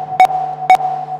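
Electronic sonification of a person's face colours: a steady sustained mid-pitched tone with a lower drone beneath, broken by bright buzzy bursts that recur about twice a second in a regular pulse.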